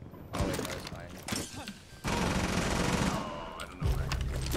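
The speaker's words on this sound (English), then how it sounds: "I just ran into I broke the mirror" Mirror glass shattering in the tactical shooter Rainbow Six Siege, a loud crash amid bursts of gunfire and thuds, with game sounds continuing around it.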